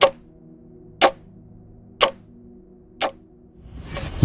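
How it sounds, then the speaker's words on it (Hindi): A clock ticks loudly in a quiet room at night, four sharp, evenly spaced ticks about one second apart, close and isolated, followed by a rising soft rustle. "अचानक घड़ी की टिक टिक फिर से तेज हो जाती है।"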